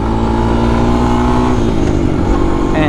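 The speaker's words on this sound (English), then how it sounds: "It's a little air-cooled Honda motor." An air-cooled, shaft-driven Honda TRX 250X ATV runs steadily at speed under a rider, its small engine giving a loud, continuous drone that holds throughout with slight pitch shifts.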